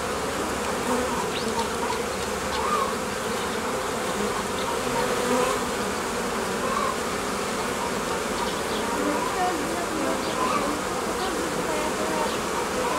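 Honeybees from an overwintered nucleus hum in a steady, dense drone while a beekeeper builds a new colony, with a continuous close buzz and scattered individual bees flying past.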